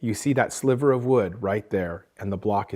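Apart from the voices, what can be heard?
No everyday noises stand out.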